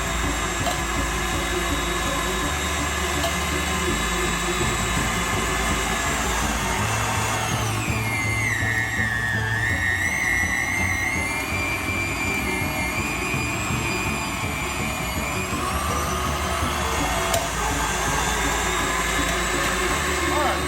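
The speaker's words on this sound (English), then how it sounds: "These little KitchenAid mixers are pretty good about getting this meat grinded up." A KitchenAid stand mixer with a grinder attachment runs steadily while grinding beef for burger patties, a continuous mechanical whir close by with a pitch dip partway through, and a person talks over it.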